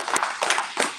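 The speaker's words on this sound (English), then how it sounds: "let's get the most round of applause" A short, close smattering of a few hand claps from a small group after a Torah portion reading, lasting about a second.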